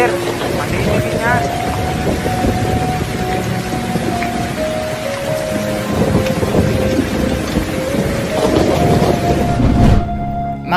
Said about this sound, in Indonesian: ini kan hujan deras. Enggak, ada petir.